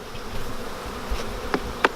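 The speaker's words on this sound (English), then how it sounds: "Look at all these bees coming out here." Honey bees swarm at a beehive, a continuous close buzzing drone with individual bees zipping loudly past the microphone near the end, no voices.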